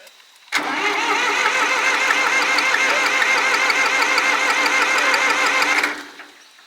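The diesel engine of an old abandoned farm tractor, primed through its injectors, turns over loudly and steadily for about five seconds before cutting off abruptly, heard close up with no talk.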